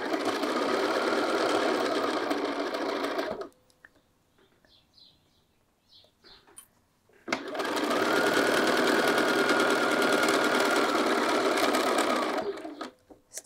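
A sewing machine stitches across the bottom of a field bag pocket in two steady, close runs, the first about three seconds and the second about five, with a short quiet pause between them.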